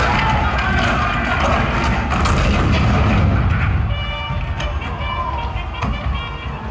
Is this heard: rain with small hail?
no